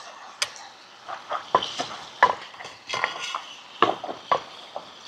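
A spoon or utensil stirs and tosses a Thai-style grilled eggplant salad with chili flakes and mint leaves in a bowl, making scattered clinks and scrapes in an irregular rhythm. The sounds are close, with no voices.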